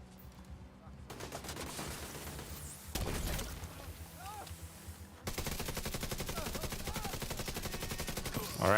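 Sustained rapid gunfire in The Division 2, turret fire mixed with a loud continuous machine-gun rattle that runs almost without pause, sharp bursts and impacts stacking over one another.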